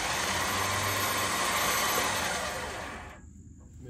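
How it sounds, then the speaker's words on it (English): Electric winch motor winding in, a steady loud whirring drone that runs for about three seconds and then cuts off, leaving a brief quiet tail. "push the top button to release the winch, or the bottom button to wind in the winch"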